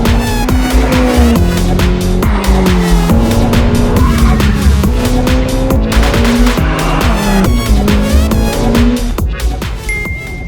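A Ferrari F8 in a video game revs hard with a loud, high engine wail that climbs through repeated gear shifts while tires squeal and skid throughout, steady and close.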